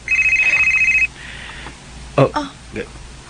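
A telephone bell rings in a radio drama, a rapid trilling ring lasting about a second before cutting off, followed by a few short, sharper sounds and brief voice fragments.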